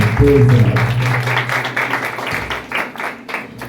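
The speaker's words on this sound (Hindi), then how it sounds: "आइए जोरदार तालियां खुदा के दिलाने के साथ" A church congregation claps loudly and steadily, a dense continuous patter close by, with a sustained low tone underneath at the start.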